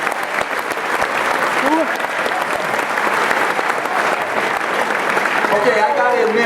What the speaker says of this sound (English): So please, a round of applause for the spouses